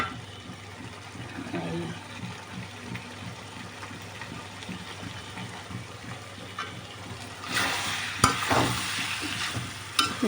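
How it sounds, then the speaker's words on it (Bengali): Beef and potatoes frying in a pan while being stirred, a continuous soft sizzle with scraping stir strokes that swells louder near the end, with a voice talking faintly underneath. "এবার নেড়ে চেড়ে মিশিয়ে আর একটু ভাজি করে নেব"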